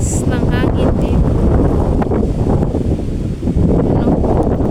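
Strong wind in Vietnam roars steadily across the microphone as a loud, continuous broadband rush, with a voice speaking over it.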